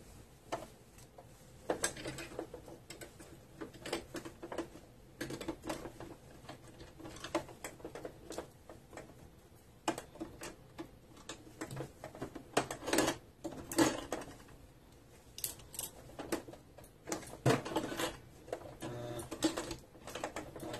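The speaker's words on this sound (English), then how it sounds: "just going to put this under my sewing machine." Home sewing machine top-stitching fabric for a corset panel, quiet irregular bursts of rapid stitching ticks separated by pauses, close and faint, no talking.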